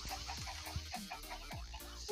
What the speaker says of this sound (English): I disturbed my chickens!